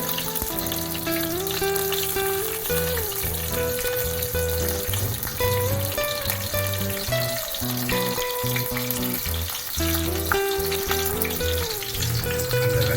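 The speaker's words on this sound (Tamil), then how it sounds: "வெங்காயத்தை போட்டு தாளிச்சுட்டு இருக்காங்க." Onions frying in hot oil in a kadai give a steady, dense sizzle that runs loud and unbroken for the whole stretch, with melodic background music playing underneath and no speech.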